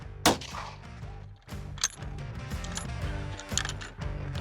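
A mARtini-16, an M16-styled build on a Martini-type single-shot action with an M16 scope mount, fires one sharp, close report early on, followed by a lower background that carries a few faint clicks.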